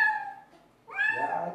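A cat gives two close meows, the first a clear falling cry and the second, after a short pause, a louder, rougher one.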